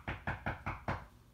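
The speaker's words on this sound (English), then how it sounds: "The next night, someone knocked on the door." Five evenly spaced knocks land on a door at night, close and distinct, with nothing else sounding.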